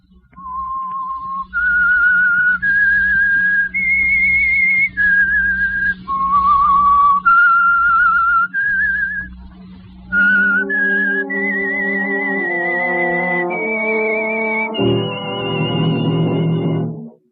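A lone whistled melody with clear sustained notes, later joined by orchestral instruments carrying the tune to a fuller close: the theme of the 1947 radio program The Whistler.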